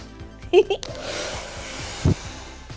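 Hair dryer blowing on a handmade painted Poke Ball, a steady soft airy whoosh that starts after a moment and keeps going, with brief bits of voice over it.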